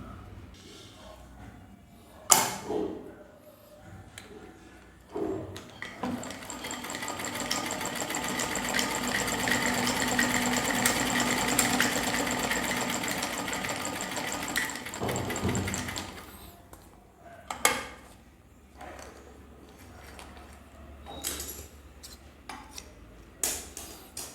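A domestic sewing machine, just repaired after giving poor stitches, runs steadily for about ten seconds with a dense mechanical whir, bracketed by quieter clicks and handling knocks before and after.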